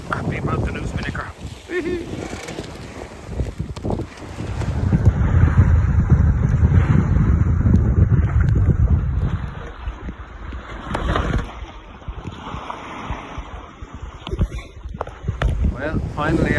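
A racing sailing yacht in the Round Ireland Yacht Race runs across Bantry Bay in fresh wind, with loud rushing wind buffeting the microphone over hissing water along the hull, swelling and easing in gusts.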